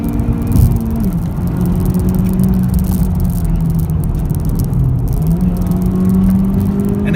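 A Honda Civic Type R engine revs hard and climbs steadily in pitch under load in third gear, a loud continuous acceleration pull with a brief dip midway as it keeps building.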